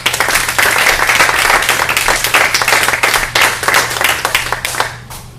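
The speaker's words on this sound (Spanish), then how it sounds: "Le damos un aplauso, por favor." An audience claps for a singer, a loud dense burst of applause from many hands that holds steady, then fades out over the last second or so.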